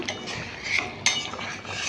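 A spoon stirring cooked dal in a metal pot, giving close, moderately loud scraping and clinking with a sharper metallic knock about midway, continuous and without any talking.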